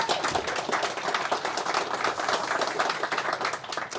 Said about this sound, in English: Ladies and gentlemen, please give a warm round of applause